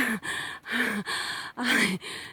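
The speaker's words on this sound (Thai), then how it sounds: "ย่าเริ่มหอบแล้วนะคะ ก็มันชันเนาะ" A woman panting hard while climbing a steep mountain trail up Phu Luang: four heavy, rhythmic breaths with audible gasping inhales, close to the microphone and with no other sound.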